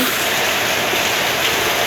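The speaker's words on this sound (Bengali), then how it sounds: "এরকম বৃষ্টি রিমঝিম বৃষ্টি হচ্ছে" Steady rain falls, a dense, even hiss of drops with no breaks, fairly loud and close.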